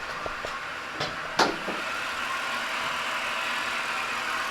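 A BMW 335i wagon engine idles in a garage, a steady, even rumble at a moderate level with a few faint clicks and knocks near the start.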